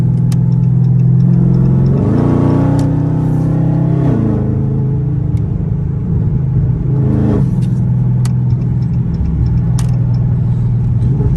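A loud cammed car engine on a night drive rumbles continuously and close, with low, lopey idle pulses and a few rising revs as the car accelerates.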